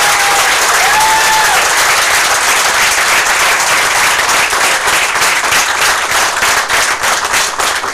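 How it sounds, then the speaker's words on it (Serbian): Loud, sustained applause from a crowd at an announcement of preliminary 2017 Serbian presidential election results, a dense steady roar of clapping that fills the whole stretch, with a voice briefly audible early on. "Svakako ovaj aplauz pripada svima vama"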